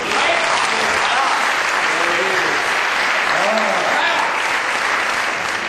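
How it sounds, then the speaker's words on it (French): An audience applauds continuously at a French hospital centre event, loud and dense clapping held at an even level, with scattered voices and a few cheers mixed in. "ils méritent un applaudissement. Allez, on les tape."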